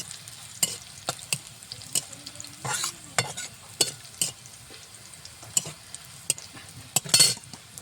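Spices and aromatics frying in hot oil for a Bengali brinjal bori and puti fish curry, with a spatula scraping and stirring in repeated sharp clatters over a steady low sizzle, close and clear with no talking.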